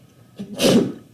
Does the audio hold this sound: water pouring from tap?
no